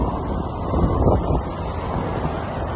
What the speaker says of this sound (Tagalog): Sarap ng hangin, malamig.